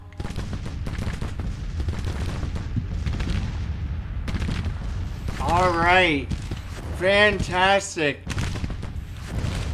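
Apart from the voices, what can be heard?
artillery and gunfire in Grand Tactician video game battle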